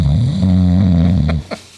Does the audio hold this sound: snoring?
yes